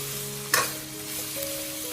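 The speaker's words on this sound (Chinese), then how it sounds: "继续翻炒出香味" Lamb stir-fried in a wok with spices such as cinnamon bark, giving a loud close sizzle and one sharp scrape of tossing early on, with no talk.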